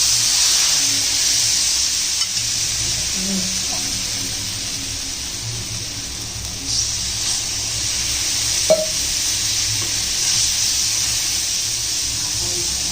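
Tomatoes added to a frying pan for spicy pithla give a constant close sizzle and hiss, with a few soft stirring knocks scattered through.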